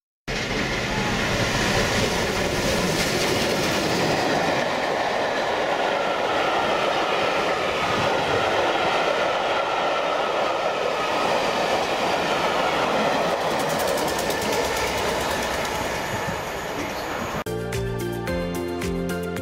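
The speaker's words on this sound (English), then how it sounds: "Speedy steam locomotive showing wonderful combination of steam and snow." A steam locomotive rushes past close by in snow, a loud continuous roar with rattling wheels and clatter, ending in rhythmic clicking as the cars go by.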